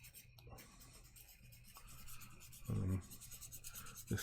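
Hand sanding with 400 grit sandpaper makes soft, quiet rubbing strokes, with a couple of louder brief scrubs near the end, close up and without talk.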